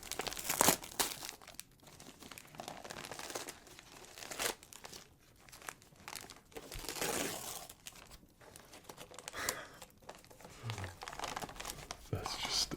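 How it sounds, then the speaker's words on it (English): Christmas wrapping paper crinkling and tearing in close, soft rustling bursts and crackles that come and go, with a quiet voice now and then. "Really nice wrapping paper."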